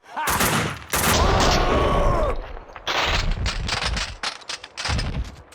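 Dense gunfire from the shooter game Max Payne 2: loud, close bursts of rapid shots that run almost continuously, with a brief lull and then clustered volleys.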